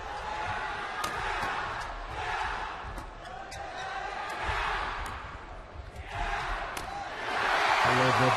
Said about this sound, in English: Every point cheered to the rafters, so long it's a Korean point.